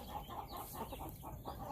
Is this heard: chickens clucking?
yes